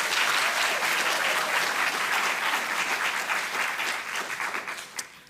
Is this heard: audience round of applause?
yes